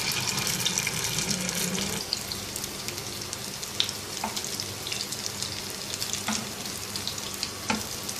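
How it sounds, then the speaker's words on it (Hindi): Shaped noodle kebabs shallow-fry in about two tablespoons of oil in a frying pan, giving a continuous close, crackling sizzle with occasional sharper pops and no talking. "अब हम ऐसे हाथों की मदद से कबाब शेप करेंगे और फ्राइंग पैन में डालते जाएंगे।"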